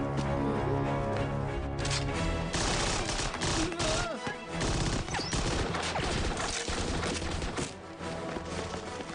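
Gunfire volley in a battle scene, rapid loud shots and sharp cracks bursting in dense clusters over several seconds, close and intense.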